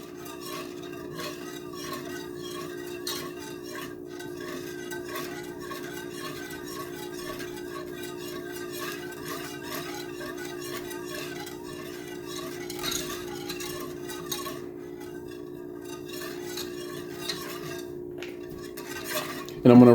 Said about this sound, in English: I'm just going to keep whisking it to keep it from sticking to the pan.